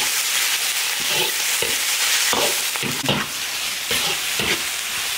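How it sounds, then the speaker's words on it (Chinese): Beef tongue stir-fried in oil in an iron wok over a wood-fired rural stove: a steady loud sizzle with scraping stirs of the spatula, no talk. "先把牛舌头炒一下"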